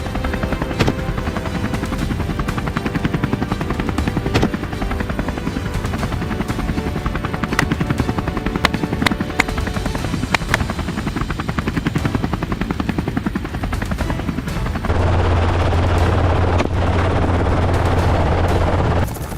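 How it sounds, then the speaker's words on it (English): A helicopter's rotor thumps and engine roar fill the scene steadily and loudly in humid Texas air, with the drone growing heavier and closer toward the end. "our chopper lifted off, blades slicing through the humid Texan air"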